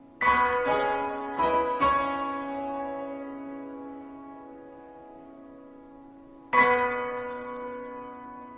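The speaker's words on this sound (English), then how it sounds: "The final moment, just the bells at the end, also a very beautiful apotheosis." Orchestral bells ringing at the close of a Ballets Russes score: a few clustered bright strikes with long ringing decay, then a single loud stroke after a pause, sounding alone.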